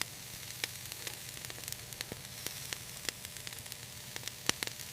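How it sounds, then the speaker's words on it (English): Octopus dishes sizzle steadily over a flame grill, a soft continuous crackle broken by frequent sharp pops and spits throughout, with no voices. "Some dishes are flame grilled. Grilling adds smoky flavor."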